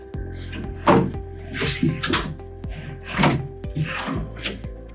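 Base cabinet drawer being pushed in and latched, giving a series of close wooden thunks and clicks spaced through the clip with a low background hum.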